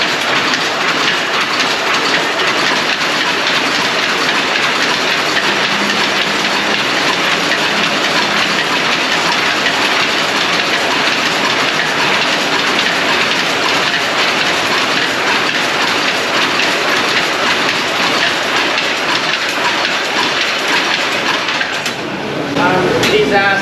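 Second-hand Japanese jacquard loom machines running in a weaving workshop in Vietnam, a dense, loud, continuous mechanical clatter with rapid rhythmic clacking throughout, with voices faintly underneath.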